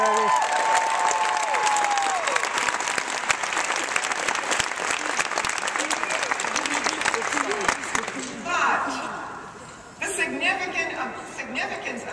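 Conference audience at a presidential address breaks into sustained loud applause with some cheering, a dense wash of clapping that continues for several seconds, with voices audible over it near the start and again toward the end.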